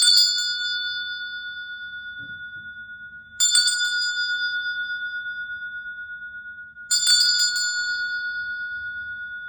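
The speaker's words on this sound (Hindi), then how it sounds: "फिर आंखें खोल कर पहले इस घंटी पे ध्यान दीजिए" A small bell rings three times at even intervals in a quiet room during a tarot reading, each bright ringing strike slowly fading with a sustained tone.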